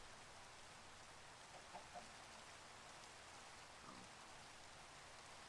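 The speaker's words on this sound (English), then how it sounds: "Sorry about the rain." Steady rain hiss from a Minecraft game world, a soft continuous patter held at low level for the whole stretch, with a couple of faint brief chirps or clucks poking through near the start and end.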